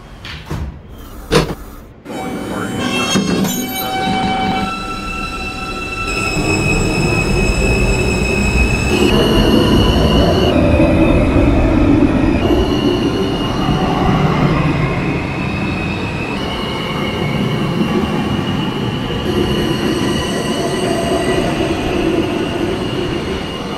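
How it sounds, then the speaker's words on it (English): A simulated New York R160A-1 L train pulls away in a train simulator with a rising electric motor whine, rumbling wheels and occasional squeals, loud and continuous, with a door clunk near the start. "This is a Manhattan-bound L train."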